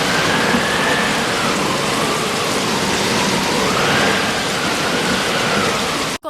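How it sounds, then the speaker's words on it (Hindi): Light rain falls in a steady, close wash on a wet surface after a college day, with faint swells and a brief sharp knock right at the end; no one speaks. "बारिश हो रही है हल्की हल्की"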